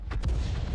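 SU-14-2 self-propelled tank gun firing in a video game, a single deep booming shot with a rumbling low tail, heard alone.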